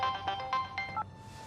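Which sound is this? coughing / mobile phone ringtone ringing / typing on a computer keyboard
mobile phone ringtone ringing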